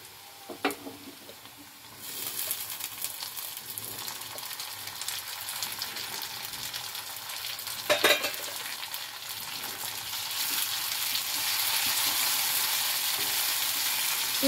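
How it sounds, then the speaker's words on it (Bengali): Onion and tomato fry in a pan for egg tadka, a steady close sizzle that swells louder and brighter once the tomato goes in, with a few clinks and stirring scrapes along the way. "পেঁয়াজটা বেশ ভালোভাবে ভাজা হয়েছে। এবার আমি দিয়ে দিচ্ছি টমেটো।"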